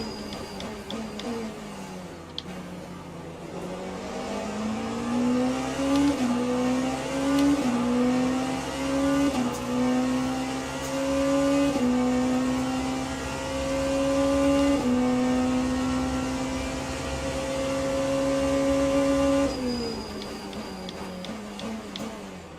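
Race car engines of a Porsche and a Mustang in the video game Le Mans Ultimate at the Bahrain Outer circuit, a loud sustained engine drone climbing through gear changes and holding a high rev before easing off.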